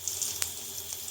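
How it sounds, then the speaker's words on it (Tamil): Mustard seeds, cumin and dried chillies sizzle in hot oil while being tempered in a pan, making a steady hiss with faint crackles and one sharper pop, and no voices over it. "இப்போ எண்ணெய் சட்டியில் எண்ணெய் ஊற்றி கடுகு, ஜீரகம், காஞ்ச மிளகாய்,"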